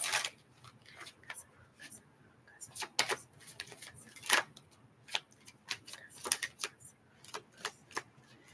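Tarot cards shuffled in the hands, brisk riffling and slapping bursts that come and go over several seconds, up close with quiet gaps between them.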